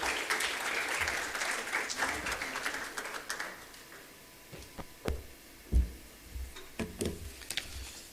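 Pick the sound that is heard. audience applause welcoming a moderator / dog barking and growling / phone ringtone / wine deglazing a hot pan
audience applause welcoming a moderator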